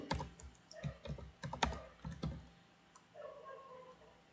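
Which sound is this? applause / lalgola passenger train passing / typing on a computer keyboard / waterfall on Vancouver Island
typing on a computer keyboard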